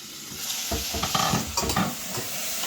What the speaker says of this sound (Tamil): இந்த குழம்புக்கு வந்துட்டு வெங்காயம் தக்காளி வதங்கிட்டு இருக்கு பாருங்கள்